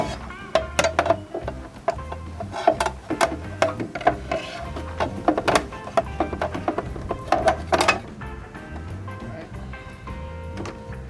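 Cover lowered and a shield fitted onto a Craftsman thickness planer, giving a run of sharp plastic-and-metal clicks, ratcheting snaps and knocks at close range, with a louder cluster of clatter just before a quieter tail.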